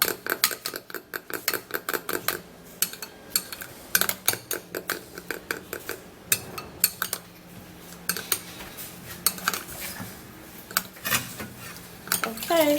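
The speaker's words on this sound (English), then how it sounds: "So I have egg whites here, and I'm going to be putting just a little of it, and then we stir." Egg whites are stirred in a bowl with a utensil, giving rapid bursts of metallic clinking and scraping against the bowl, repeated in uneven rhythmic runs with brief pauses, close and fairly loud.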